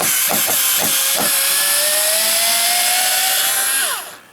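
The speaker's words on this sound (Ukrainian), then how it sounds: "Ви бачили, ця викрутка закрутила" A Bosch GO electric screwdriver, set 06019H2021, drives a fairly large bolt: a loud, close motor whine with a few short bursts, then a long strained run that winds down and stops.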